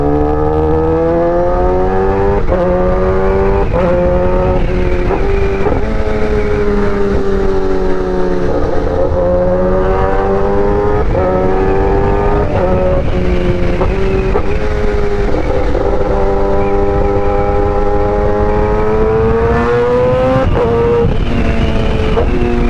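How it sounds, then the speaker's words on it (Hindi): Loud sport motorbikes such as a Kawasaki Ninja ZX10R and Suzuki Hayabusa riding in a group, a continuous close engine roar with rising and falling revs, steady and loud throughout. "रिएक्शन मिल रहा है आज बहुत ज्यादा, क्योंकि सब लाउड बाइक है सब।"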